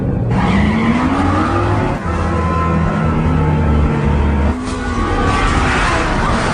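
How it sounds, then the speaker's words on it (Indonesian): A Ferrari and a Lamborghini race side by side, loud engines revving and rising in pitch with tires squealing and skidding, continuous and close throughout with a brief dip midway. "Jaeyi dengan Ferrarinya melawan Rian dengan Lamborghini-nya."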